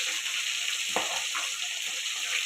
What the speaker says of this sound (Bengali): এর মধ্যেই মাছটা ভাজা হবে।